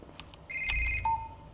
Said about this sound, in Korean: 아 전화 왔다